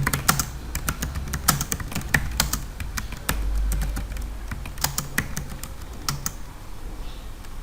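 HTML code being typed on a computer keyboard: rapid, uneven bursts of close, crisp key clicks with short pauses, loud and alone without talk.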